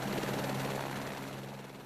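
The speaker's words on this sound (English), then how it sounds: "firefighters practice exiting a chopper while it's still in the air" A helicopter hovers in the air during a firefighter hover-exit drill, its rotor throbbing in a steady, loud drone with a rapid low chopping pulse and broad wind-like noise.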